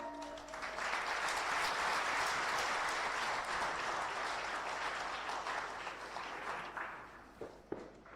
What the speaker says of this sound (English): shall we appreciate all awardees with a round of applause again?